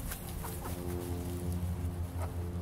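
A Cochin Bantam hen clucks softly up close in a backyard setting, a few short low calls over a steady background hum.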